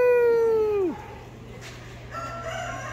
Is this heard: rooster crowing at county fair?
yes